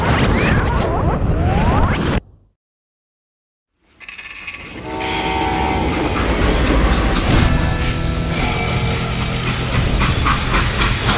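A freight train in the Western shooter game Call of Juarez: Gunslinger rumbles loud and continuous, with a hissing, screeching start, a brief dead-silent gap, then a heavy steady roar carrying tonal horn- or whistle-like notes.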